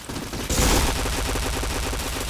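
Rapid automatic gunfire from a mobile shooter game bursts in after a short lead-in, a loud, dense run of rhythmic shots that continues without pause, with no speech over it.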